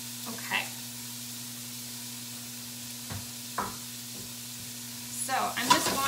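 Vegetables sizzle steadily in a hot pan, with a few light clatters and a brief voice near the end.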